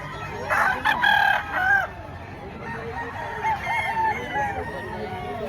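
Roosters and chickens at a poultry market in Padre Garcia, Batangas crow loudly and close, one long crow followed by overlapping calls and clucks, with faint talk in the background.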